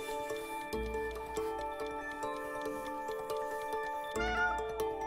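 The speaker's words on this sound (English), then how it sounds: "It's a cat." A cartoon cat meows repeatedly in the co-op video game It Takes Two, its calls rising over a busy, steady game music score, with a louder burst of sound near the end.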